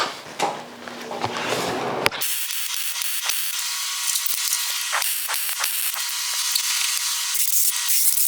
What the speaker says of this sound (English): Time to weld it up.